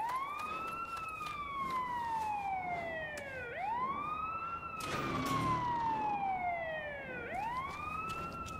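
Wailing vehicle siren in the video game The Day Before, sweeping up and down in repeated slow cycles, moderately loud and steady over a faint engine hum.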